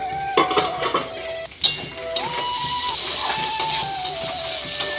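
A metal lid comes off a pot of suji upma cooking with potato and carrot: clinks and a clattering knock ring out near the start and middle, then a scraping metallic rattle amid soft kitchen background.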